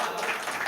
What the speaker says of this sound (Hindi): ये पीछे जो लोग नहीं दिख रहे और तालियों की आवाज़ आ रही है